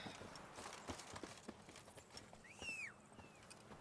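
Roach, the horse in The Witcher 3, clip-clops at a steady walk, faint hoofbeats under a swooping electronic whistle partway through.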